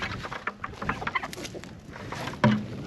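Meat chickens out on pasture cluck and murmur in scattered short calls close by, with one louder, sharper cluck near the end.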